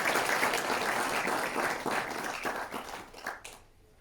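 Applause at a risk management awards event, fairly faint and loosening into scattered claps before tapering off to quiet at the end.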